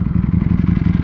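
A 2021 Ducati Panigale V4S superbike with an Akrapovic full exhaust system idles close by, giving a loud, deep, lumpy rumble with rapid, evenly pulsing firing beats.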